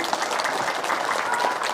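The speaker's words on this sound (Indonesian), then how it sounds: "Tepuk tangan dulu." Dense, steady applause from a crowd at a speech, lasting the whole short stretch without a break.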